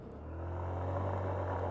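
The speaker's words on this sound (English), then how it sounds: "You can indeed do burnouts." Car engine held at steady high revs during a burnout on a warmed-up tyre, a loud continuous drone building in the first fraction of a second and then staying level and close with no talk.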